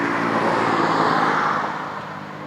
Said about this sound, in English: Wow, a diesel smart car.